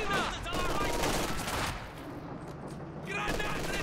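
Machine gun fire in the real-time strategy game Company of Heroes 2 during a 1v1 match, a dense rattling burst of rapid shots mixed with other battle noise, steady and moderately loud throughout.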